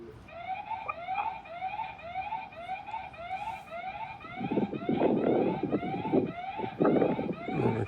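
Siren of a solar-powered wireless outdoor security camera system, a loud repeating electronic warble cycling steadily and rhythmically, with gusty wind noise on the microphone growing stronger partway through.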